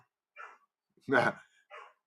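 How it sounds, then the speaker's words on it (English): A dog barks three times at close range, a short yip, then a louder fuller bark, then another short one, spaced about half a second apart with silence between. "he is barking profusely"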